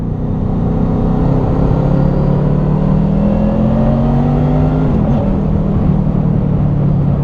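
Honda VFR800 Interceptor motorcycle riding on an overcast day among traffic, a steady loud engine drone with wind rush throughout, pitch easing slightly midway with a brief dip near the end.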